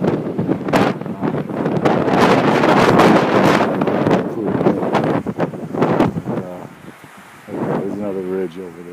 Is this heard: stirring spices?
no